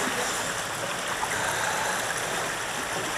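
Steady rushing and splashing water on the Viking Voyager log flume at Worlds of Fun, Kansas City, a dense continuous wash that stays loud and even throughout, with no talk over it.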